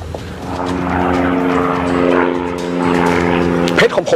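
A propeller airplane drones as it flies away, a loud steady engine hum with a strong low tone that fades slightly, ending in a few sharp clatters.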